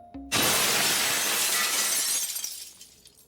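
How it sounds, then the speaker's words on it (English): Windows shatter from an explosion shockwave in Honkai Impact 3rd: a sudden loud burst of breaking glass after a brief quiet moment, followed by a dense spray of tinkling shards that slowly thins and fades over a few seconds, with no voices. "A huge boom came with strong shockwaves, shattering every window from the buildings nearby."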